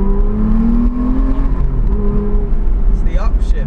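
An Aston Martin supercar engine drones loudly through downshifts while driving in a supercar convoy. Its low, throaty rumble shifts pitch, a rising whine comes in near the end, and a voice talks over the engine.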